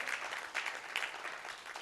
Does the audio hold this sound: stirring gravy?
no